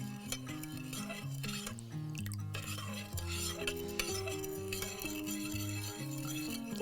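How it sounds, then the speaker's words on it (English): A spoon stirring sugar in a pot until it dissolves, quiet scraping and clinking against the metal, heard faintly under steady background music with no talk. "I'm gonna give this a good stir. Make sure all the sugar is dissolved."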